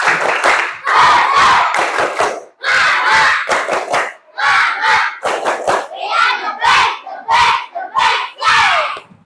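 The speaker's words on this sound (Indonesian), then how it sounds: "mari kita tepuk semangat lagi secara bersama-sama" A group of trainees in an on-the-job coding and artificial intelligence class performs a spirit clap, chanting loudly in unison with rhythmic clapping in repeated bursts separated by short pauses.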